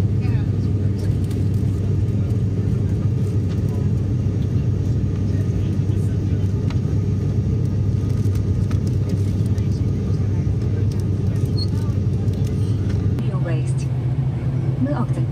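Steady, loud airliner cabin drone on a short flight from Koh Samui to Phuket, a continuous low engine roar that holds throughout with a slight shift in pitch near the end.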